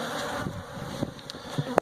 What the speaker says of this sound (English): It is just full of bees.